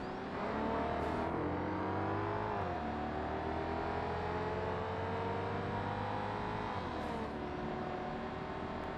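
Racing car engines in the Forza Motorsport video game, a steady whining drone with gear-shift dips, one engine noticeably quieter against a louder car behind, sustained throughout with no talk.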